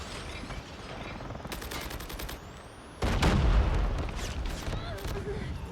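Machine gun fire in the Call of Duty Mobile video game comes in rapid, clipped bursts, including a louder, heavier volley midway, over a constant game background.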